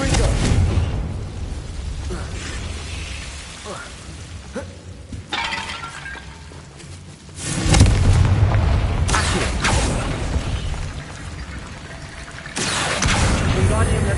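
Confringo blasting spells exploding in Hogwarts Legacy, several loud booming bursts with shattering, glassy crackle spread across the stretch. A voice speaks over parts of it.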